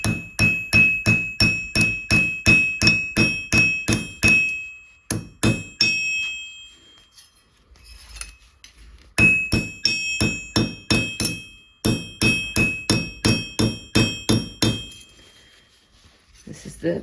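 A hammer strikes the sides of a copper bracelet in quick, evenly spaced ringing metallic blows, loud and close. The blows come in bursts separated by brief pauses.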